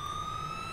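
A police car siren in the game GTA 5 wails steadily in the background, a continuous tone heard faintly over low rumbling noise.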